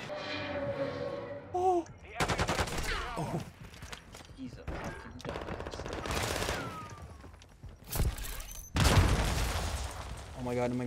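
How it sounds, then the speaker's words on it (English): Gunfire in a Call of Duty Modern Warfare 2 match, including shotgun blasts: loud bursts and heavy booming shots come in clusters, with gaps between them and game music and effects around them. Players talk over parts of it. "Stop using a shotgun."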